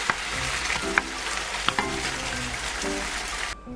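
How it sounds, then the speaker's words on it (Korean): Chicken thigh pieces simmer in sauce in a hot pan, a steady, continuous crackling hiss with a few small pops and clinks throughout. "먹기 좋게 자른 닭다리살에 만들어뒀던 소스를 붓고 수분이 날아갈 때까지 졸여주세요"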